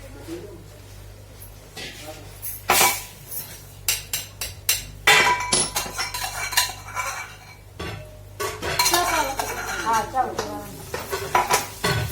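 Masala being stirred and fried in a pan over cumin, onion and chilli, with loud metal spoon scrapes and clanks against the pan in irregular bursts, alongside light sizzling and someone talking.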